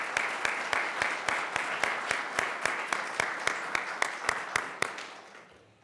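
A board meeting audience gives a round of applause, heard as a sparse, even run of separate hand claps that fades out at the end.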